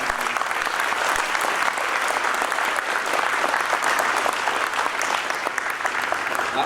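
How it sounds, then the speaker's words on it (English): A school concert audience at Wilson Middle School claps warmly for the band boosters, a dense, even wash of applause that holds steady from start to finish with no talking over it. "if we could give the band boosters a big round of applause as well"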